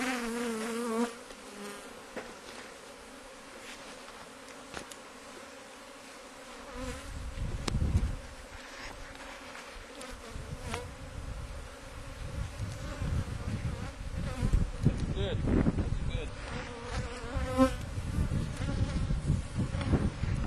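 Honey bees hum in an open hive box during an inspection, the box crowded five deep with bees; a dense, steady buzzing swells louder partway through, with individual bees droning close by.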